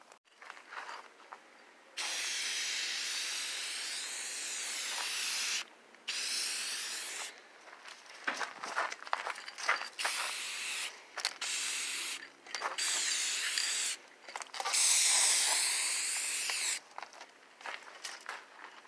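A spray can hisses in long bursts as paint goes onto the rusty inner cavity of a 1958 Plymouth under rust repair, with steady sprays of a few seconds each broken by short pauses and light rattles, close up and without talk.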